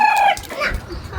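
A hen gives a few short clucks up close, brief and throaty, followed by quieter rustling where the chickens sleep and lay eggs.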